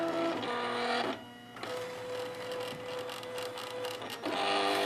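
A Silhouette Cameo cutting machine whirs and buzzes as it cuts a stamped image, its motor running in steady mechanical bursts with a brief pause, close and alone.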